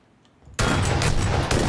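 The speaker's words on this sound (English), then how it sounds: "Oh, nope, that's a shotgun." Shotgun fire in the battle-royale game PUBG: a sudden loud, close blast fills the sound after a near-silent start, with dense rumbling gunfire continuing and a second surge near the end.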